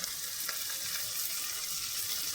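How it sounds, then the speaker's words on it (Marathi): Tomatoes hit a hot pan while cooking potato, pea and paneer upma, giving a steady, close, bright sizzle that hisses evenly throughout with no talking. "त्याच्यानंतर आपण याच्यात टमाटे टाकूया."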